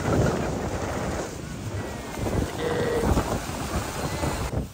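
Wind blowing across a boat out on the water, gusting and buffeting the microphone in a loud, rough rush with the faint wash of water underneath.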